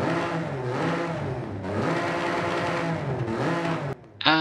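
A Toyota Celica fitted with a racing 3-litre 2JZ inline-6 turbo engine revs in Forza Horizon 5. The engine note surges and falls in loud sustained sweeps, then goes quiet briefly before one sharp final burst.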